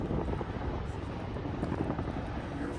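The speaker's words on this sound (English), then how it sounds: "sounds like there's a helicopter on right now." A Black Hawk helicopter runs nearby at a Montana National Guard site in Helena, giving a steady, dense rotor and engine roar that fills the whole stretch with no break.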